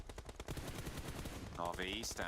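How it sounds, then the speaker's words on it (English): Rapid bursts of automatic gunfire in a PUBG Mobile pro league match, loud and dense for most of the moment before a commentator's voice takes over at the end. "The bullets do the job for him."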